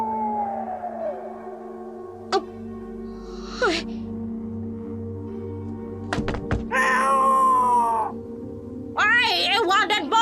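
A pet cat named Muning gives a few short meows at intervals, set against a low droning background with a sharp thunk partway through.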